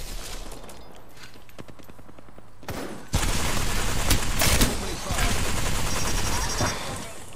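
Gunfire rattles through a match of the battle-royale game Apex Legends: scattered shots at first, then a dense, loud burst of rapid automatic fire from about three seconds on that continues with overlapping bursts.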